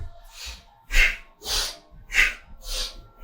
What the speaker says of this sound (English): as you're breathing out, you can use it to throw your arms down a little bit more